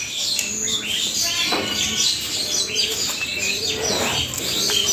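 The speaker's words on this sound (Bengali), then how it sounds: "আর এগুলো সবগুলোর মধ্যে কিন্তু কবুতর আছে, দেখো ভিতরে।" Pigeons coo and chirp in a pigeon farm with nesting birds inside the coops, a dense continuous mix of soft coos, tweets and occasional wing flutters close by.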